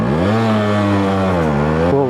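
A vintage Yamaha RX 135 two-stroke motorcycle engine, just kick-started, runs close and loud with a steady buzzing drone that dips slightly in pitch before rising again.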